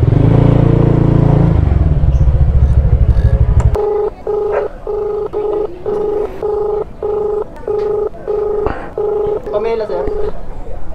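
A phone dialing a customer's number by a delivery motorcycle rider, about nine evenly spaced keypad tones beeping close after a burst of engine and voice noise at the start.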